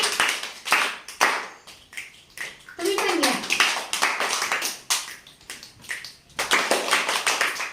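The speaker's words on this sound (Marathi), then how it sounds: "आपण यांना छान टक्क टाळी देऊयात सगळ्यांनी" Children in a first-grade classroom clapping in rhythmic bursts for classmates, sharp repeated claps close by, with a voice and adult talk mixed in.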